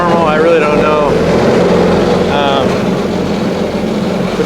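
Mini jet boat engine running inside the boat on its first run, a loud steady idle with brief rising revs, someone talking over it.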